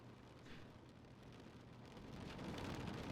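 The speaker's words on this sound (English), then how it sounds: "Oh, it's raining outside." Steady rain falls outside in The Stanley Parable, heard as a soft, continuous hiss that grows slightly louder toward the end, with no voices over it.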